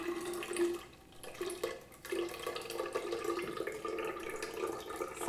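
Soaking water from sun-dried tomatoes pours steadily into a measuring cup in a kitchen, a continuous splashing trickle that briefly pauses twice before resuming.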